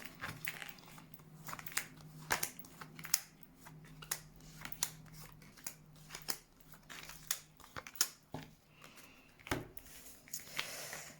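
Tarot cards are drawn and handled in a quiet room, giving faint, irregular papery snaps, slides and ticks spaced across the whole stretch, with no talking.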